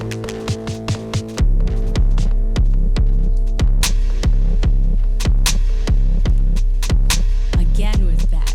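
A kick drum from an Elektron Rytm Mk2 drum machine thumps loudly in a steady repeating pattern, each hit over a deep sustained low throb, with a few quieter hits before the full pattern starts.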